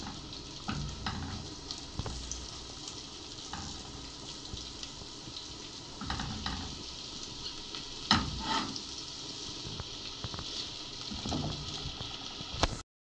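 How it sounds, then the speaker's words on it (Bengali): Six or seven chopped onions frying in mustard oil until brown, a steady close sizzle with occasional stirring scrapes and clatters throughout, loudest bursts around the middle and near the end. "এখন এই পেঁয়াজটা আমি ব্রাউন কালার করে ভেজে নেব।"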